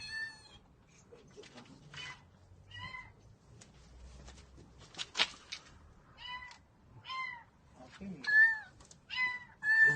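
A cat trapped inside a car meows again and again, its clear, moderately loud cries spaced across several seconds, with faint voices and low rumbles between them.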